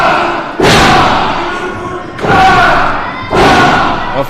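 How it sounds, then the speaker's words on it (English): Three heavy thuds land in the wrestling ring, spaced about a second and a half apart, each a loud slam with a lingering boom, and a crowd murmurs underneath. "A flurry of blows from the Neon Tiger"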